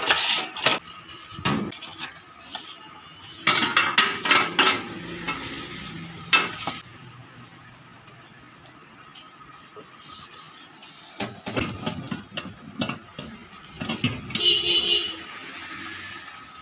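A plate is fitted inside an Enviro ENR-30xdg microwave oven, making close, loud bursts of clattering knocks and clinks, with a quieter pause midway before more handling noise returns.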